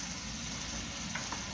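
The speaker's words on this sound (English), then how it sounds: "give it a pretty good stir" Haluski stirring in a pan on the stove, a steady close sizzle and frying hiss running throughout with a couple of faint scraping touches near the end.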